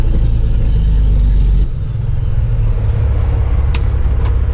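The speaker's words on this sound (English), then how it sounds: "I'll get her up to 1500, ease off the throttle, and that'll let it go into neutral" A semi truck's diesel engine rumbles loud and close, holding a heavy revved drone for about a second and a half before the throttle eases off and it settles into a lower, steady idle-like rumble.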